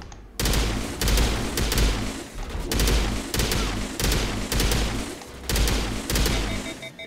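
Gunfire in the video game Mass Effect Legendary Edition, firing incendiary rounds: loud repeated bursts of rapid shots with booming low thumps, coming in clusters roughly every second, with no talking.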